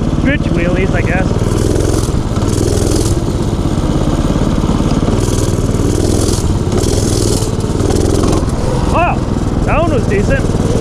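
A motorcycle roars loudly up close during a ride with attempted wheelies. The engine drones hard throughout with buffeting wind and a few rising revs near the end.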